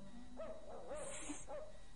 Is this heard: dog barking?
yes